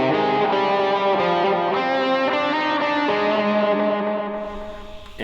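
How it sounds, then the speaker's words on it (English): Electric guitar played through a TC Electronic Flashback delay pedal on its lo-fi setting, with high feedback and a slappy delay: sustained distorted chords ring continuously with trailing repeats, loud and alone, fading slightly at the end. "we got the TC Electronic Flashback. This is the first delay pedal I ever bought"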